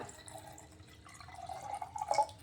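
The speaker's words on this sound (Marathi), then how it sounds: "तर आपण आता कलशामध्ये फ्रेश असं पाणी भरूया" Water pours and trickles into a small ritual pot during a puja, quiet and close, with the gurgle rising slightly toward the end.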